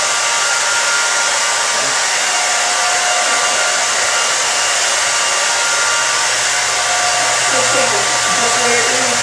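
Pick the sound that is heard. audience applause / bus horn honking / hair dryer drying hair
hair dryer drying hair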